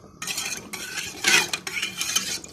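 A spoon scrapes and clinks around a pot of muhallabiya milk pudding on a gas stove, in short bursts of stirring with brief pauses, close and clear with no talking.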